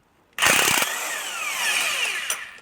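An impact tool hammers loose 15 millimeter cylinder head bolts on a 5.3 LM7 engine, bursting in loudly with rapid rattling hits, then spinning down in a long whining run.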